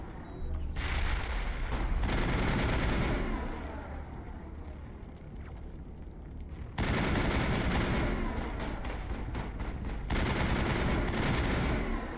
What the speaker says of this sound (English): Oh, I hear bullets.